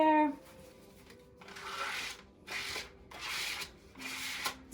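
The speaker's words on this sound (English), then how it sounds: "you're going to scrape off all of the shaving cream" Shaving cream is scraped off a surface in a preschool Earth Day activity, four soft rubbing strokes, close and fairly quiet, separated by short pauses.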